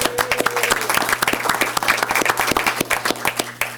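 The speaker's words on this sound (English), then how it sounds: "Let's give them a round of applause" A school board meeting audience claps for two elementary school student leaders called to the front, sustained even applause filling the room for a few seconds, with a faint tonal hum beneath.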